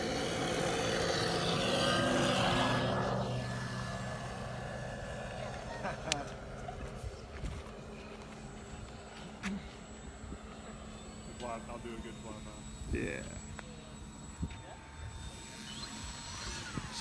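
A Focke-Wulf Fw 190 taking off, its engine loud and close at first, then dropping back into a steady, fainter drone as it moves away, with people talking over it.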